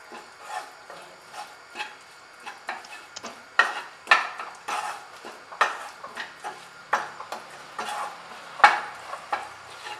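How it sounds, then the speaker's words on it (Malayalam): A spoon scrapes and knocks in a pan as garam masala and turmeric are stirred, giving repeated close, clattering strokes in an uneven rhythm over a faint background, with no voices. "പച്ചമണം മാറുന്ന വരെ നന്നായിട്ട് ഇളക്കി കൊടുക്കണം."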